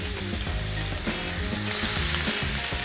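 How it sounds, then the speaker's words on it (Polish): Loud, continuous sizzling of minced meat frying in a pan, with occasional stirring scrapes. "I smażę mięso"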